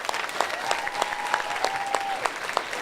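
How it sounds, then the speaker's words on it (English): Applause from an audience at a children's advocacy press conference, steady clapping with scattered sharper claps throughout and a faint sustained tone running underneath. "I want to give them a particular round of applause from me"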